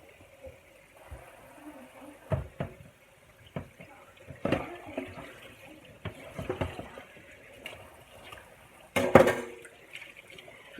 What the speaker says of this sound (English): We're just washing the peppers out again.